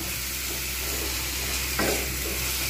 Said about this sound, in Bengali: তৈরি হয়ে গেল, এটাকে ভালোভাবে একটু ভেজে নেব